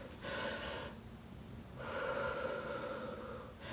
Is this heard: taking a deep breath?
yes